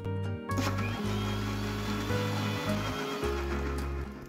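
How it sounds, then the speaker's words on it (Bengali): A blender whirs steadily as it blends cold coffee with ice cubes and milk powder, a loud, droning motor hum with a few brief dips and surges in pitch. "2 থেকে 3 মিনিট টাইম নিয়ে খুব ভালোভাবে আমরা এটা ব্লেন্ড করে নেব।"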